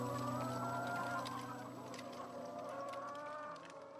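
Chickens clucking in a crowded poultry setting tied to large-scale slaughter, a dense continuous layer of overlapping fowl calls at steady loudness, easing slightly toward the end.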